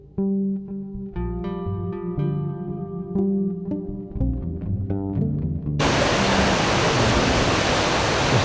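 Rainwater pours down stone steps in a Transylvanian city, a steady, loud rushing wash that swells in partway through and holds after some brief tonal sounds at the start.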